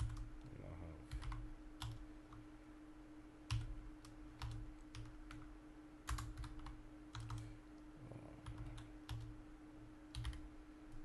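Steady typing of HTML code on a computer keyboard: quick, fairly quiet key clicks in an irregular rhythm throughout, over a low background hum.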